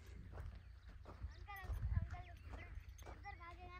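A horse's hooves clip-clop on the ground with a horse snorting nearby, under excited overlapping voices of people talking and shouting outdoors.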